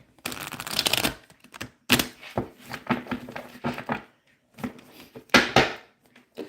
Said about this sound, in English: we're going to clarify now with the Rider-Waite Tarot deck